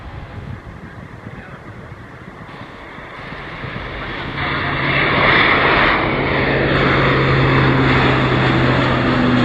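A Lockheed U-2 Dragon Lady flies at a summer airshow, its jet engine roar building from a moderate rumble into a loud, sustained broadband roar as it passes overhead, with a voice heard over it.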